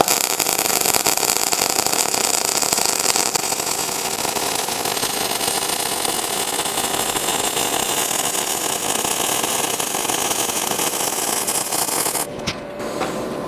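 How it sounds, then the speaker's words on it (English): A Primeweld MIG 180 lays a groove fillet weld on steel using dual-shield flux core wire with a pulling motion, giving a steady, close, loud crackling hiss that runs unbroken and cuts off near the end. "I'm just gonna do kind of a groove fillet weld here. With the Flux core, I like to do kind of a pulling motion."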